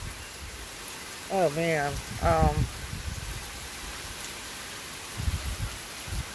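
Steady rain from Hurricane Isaias hisses outdoors throughout, with a voice briefly speaking over it partway through.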